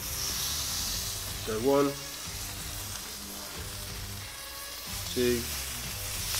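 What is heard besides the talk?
onions sizzling on a hot plate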